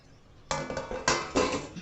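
A metal cake tin of banana cake garnished with dry fruits is set down into a preheated kadhai, giving a few sharp metallic clanks and scrapes close by, with no talking.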